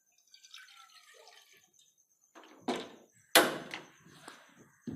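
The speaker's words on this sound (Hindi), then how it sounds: "अब इसमें हम डालेंगे पानी 1 गिलास" A glass of water poured into an empty cooking pot to start sugar syrup for besan barfi, with soft trickling followed by a few loud splashing pours and a thunk, close by and with no talking.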